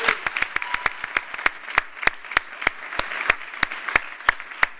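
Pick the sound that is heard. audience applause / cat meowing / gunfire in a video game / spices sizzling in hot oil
audience applause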